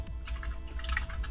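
Keystrokes on a computer keyboard entering a Linux terminal command, a fast, fairly steady run of light clicks close to the mic with no talking.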